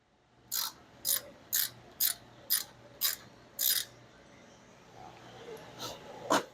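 A hand ratchet loosening a bolt on the half door of a 2026 Polaris Ranger Crew 1000, about eight sharp evenly spaced clicks, close and clear, then a few fainter scattered clicks over a low hum.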